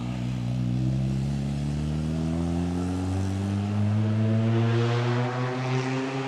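A car accelerates hard at a hill climb event beside a castle, its engine droning loudly and steadily with rising pitch as it passes close by, then fading slightly into the distance.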